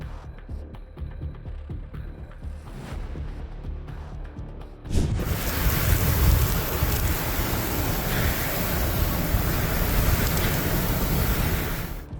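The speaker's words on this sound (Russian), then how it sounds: "Сильная штормовая система охватила значительную часть США, вызвав метели и сильный снегопад на Среднем Западе, опасные грозы и торнадо на восточном побережье" A strong storm system roars in a steady, dense wash of wind and rain noise after a quieter opening, loud and continuous without any voices.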